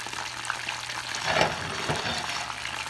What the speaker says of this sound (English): You hear that bubbling in there?